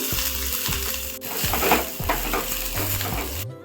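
Cumin seeds and green chillies frying in a pan for an eggplant curry, a close steady sizzle with repeated spatula stirs and light scraping, plus a low tonal hum in the background.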